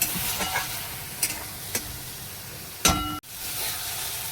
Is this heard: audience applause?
no